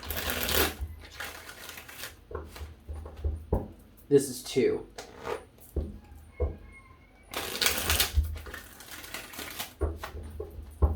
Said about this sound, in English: I'm going to give this 3 shuffles.